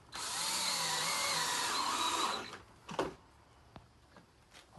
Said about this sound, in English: just keep drilling